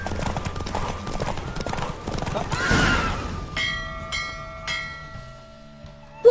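Hooves of a galloping horse in The Witcher 3 video game drum quickly and loudly, swelling then easing off as ringing, bell-like tones take over near the end.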